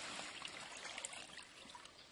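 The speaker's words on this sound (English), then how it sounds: "So just let a bit of the water out first." Water draining out of a carp weighing sling beside a French fishing lake, a faint continuous trickle and splashy dribble over about two seconds.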